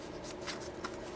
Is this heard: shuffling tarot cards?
yes